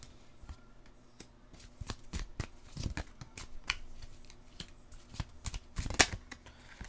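Oracle cards are shuffled and drawn from a deck in a quick run of dry slaps and flicks, close and fairly soft, with no talk.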